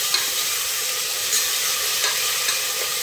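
Tomatoes cook and are mashed in a pan for pav bhaji, giving a steady close sizzle with continuous stirring and scraping throughout.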